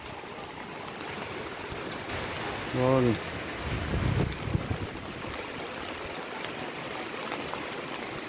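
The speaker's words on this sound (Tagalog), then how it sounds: "malakas na rin yung ulan." Heavy rain pours during Typhoon Rolly in Imus, a steady, dense hiss of water that continues throughout, with someone briefly speaking and a short, louder gusty swell midway.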